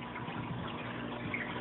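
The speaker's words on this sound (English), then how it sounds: "is the drip from the bioballs into the tank below it" Water drips and trickles from bioballs into an aquarium tank below in a converted Eshopps PF 1000 overflow setup, a faint, continuous splashing patter with a low steady hum.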